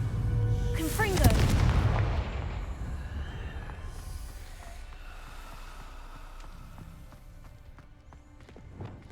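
Confringo blasting spell cast in the Hogwarts Legacy video game: a loud explosive boom in the first seconds that rolls into a fading rumble, with faint game ambience trailing after.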